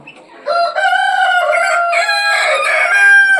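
Close and loud, a rooster lets out a single long crow inside a farm chicken coop with Polish bantams and free-range hens, the call starting abruptly after a brief quiet and holding strong to the end.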